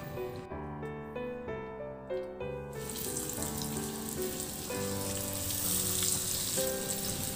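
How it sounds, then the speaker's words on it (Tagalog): Cornstarch-coated milkfish (bangus) is dropped into hot oil and bursts into a loud, continuous sizzle and crackle right up close after a few brief clatters of cookware. "painitin at iprito na rin natin yung bangus"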